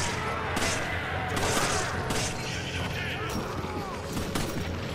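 Rapid gunfire from the Resident Evil 5 video game forms a dense, continuous barrage of overlapping shots and impacts, loud and steady throughout.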